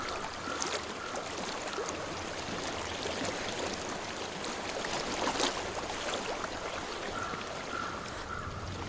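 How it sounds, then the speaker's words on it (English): Stream water flows steadily in the video game Hellblade: Senua's Sacrifice, a constant soft rushing and trickling wash that stays at an even, moderate level with no talking. "I hear water."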